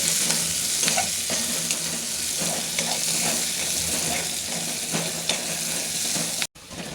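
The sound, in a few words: tempering curd with onions in a pan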